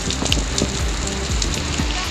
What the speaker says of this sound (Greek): μιλάμε για βροχή